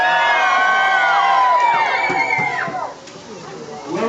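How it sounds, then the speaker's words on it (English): Crowd cheering and whooping at a reptile park alligator show, a loud burst of mixed voices with rising and falling shouts that fades after a few seconds into scattered calls. "Whoever wants to see this happen, cheer as loud as you can."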